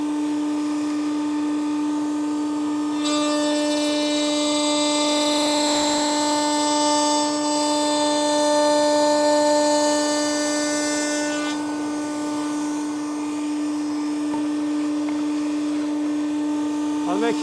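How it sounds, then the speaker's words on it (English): A cutting machine runs with a steady, loud tonal whine and harmonic hum that intensifies for several seconds during the cut, then settles back, with a voice speaking over it. "allow the machine time to do the work. You want a nice clean cut at all times."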